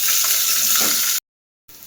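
A loud, steady sizzle of small shallots frying in hot oil, close up, cutting off abruptly for a moment before returning.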